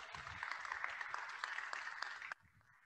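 An audience at a spring honors convocation applauds a row of honorees with brisk, fairly faint clapping that cuts off abruptly after about two seconds, leaving a quiet room.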